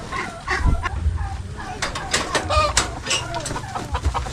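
Chickens cluck close by at a market stall where poultry and ducks are being weighed and sold, with a few sharp calls over low background voices.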